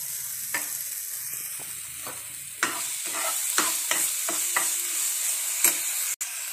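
Apple pieces fry with sugar in a pan, giving a steady sizzle while a spoon stirs and scrapes in a series of sharp clinks and taps, close and with no talking.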